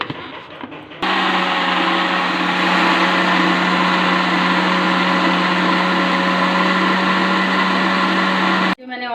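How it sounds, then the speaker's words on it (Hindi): A kitchen mixer grinder whirs steadily and loudly, blending sugar for a vanilla chocolate cake batter, a constant high motor drone that starts abruptly and cuts off just before the end. "6 से 7 मिनट तक लगातार इसको मैं ग्राइंडर के अंदर चलाऊँगी"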